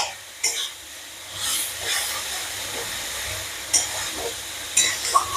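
Rohu fish pieces being stir-fried with salt in a pan for a sesame-paste fish dish, with a soft hiss and intermittent scraping stir bursts close by.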